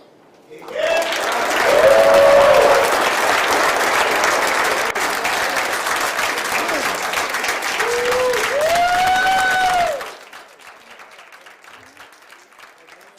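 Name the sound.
applause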